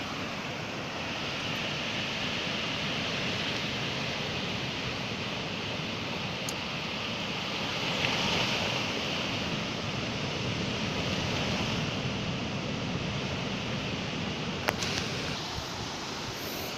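Surf washing steadily onto the beach shore at Peh Pulo, Blitar, where a man casts a net for fish; a continuous broadband roar of breaking waves with light wind, no voices.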